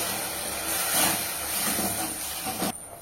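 A steady, hissing bubbling of sugar syrup boiling hard in a pan, continuous and close, with a brief shift near the end.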